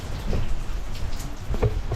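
Steady rain pattering on a surface nearby, with a low rumbling wash and occasional heavier drips, no voices.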